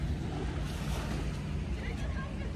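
Sea surf at a beach near a pier on a warm day, a constant soft wash of waves with wind rumble against the microphone, fairly quiet and even throughout.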